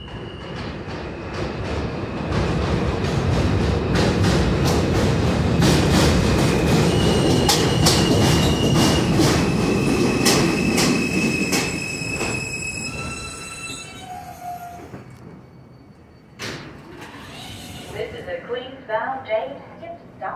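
R160 and R179 subway trains on the BMT Nassau Street Line at Cypress in New York City roar loudly past, wheels squealing and screeching on the rails for several seconds before fading. A few thumps and clatters follow.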